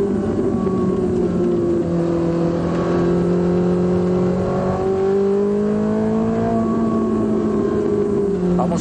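Ferrari 458 Italia engine held near idle with smooth rising and falling harmonic tones as gears are downshifted by hand, a steady close drone throughout with a voice speaking over it.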